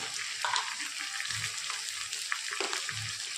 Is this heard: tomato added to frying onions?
yes